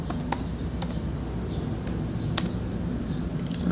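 Several sharp, scattered clicks of a computer keyboard as a search is typed, spaced irregularly over a steady background hum, fairly close and with no one talking.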